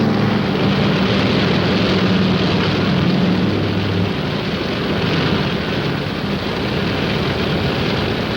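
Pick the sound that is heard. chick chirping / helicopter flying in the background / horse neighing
helicopter flying in the background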